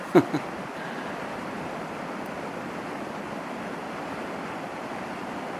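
Steady rushing water from a flood near a temple bridge, a broad continuous wash heard close and alone after a couple of brief knocks at the start.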